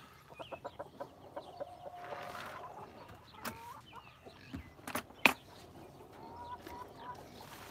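Chickens cluck in a series of short, close calls, with a few sharper squawks and scattered rustling in the background.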